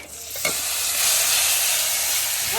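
Chili paste hits a hot pan with a loud, steady sizzle that swells after a brief stir and holds up close, with no voices.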